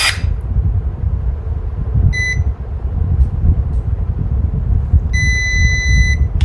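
Cordless electric pruning shears beep twice as they lock in the closed position, two short, high electronic tones over a steady low outdoor rumble, with no one speaking.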